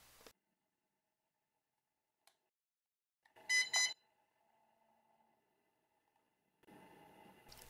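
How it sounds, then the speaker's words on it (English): A short burst of bright electronic pairing beeps from an HS720e drone remote sounds alone in a quiet room, followed later by a faint hum and some rustling. "It should make 2 beeps."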